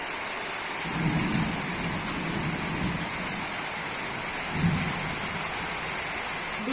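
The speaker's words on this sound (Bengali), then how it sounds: "সেই বৃষ্টি" Steady heavy rain falls on surfaces while low thunder rumbles roll in twice, all as a continuous dense wash with no voices.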